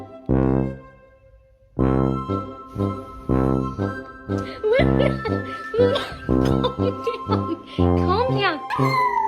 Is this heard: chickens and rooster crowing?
no